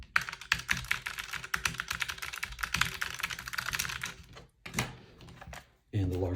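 Version 2 buttons of a Duelpad Flatbox Ultra arcade-style controller clatter in quick, dense plastic clicks for about four seconds, close and fairly quiet, followed by a few knocks and a brief voice near the end.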